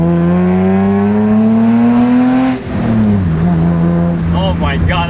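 A BMW E30 engine pulls hard under acceleration, its steady rising drone climbing in pitch before a brief drop at a gear change and a renewed pull, loud and close inside the car.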